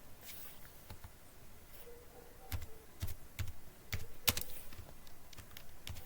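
Clicky keystrokes on a computer keyboard come in irregular bursts, close and fairly soft, with scattered single taps over a low background hiss.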